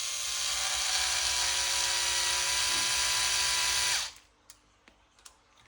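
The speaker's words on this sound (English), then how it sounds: "So now I'll just use my drill" A cordless electric drill whines steadily at high speed for about four seconds while driving a part on an RC DR10M drag car build, then stops, followed by a few faint clicks and taps.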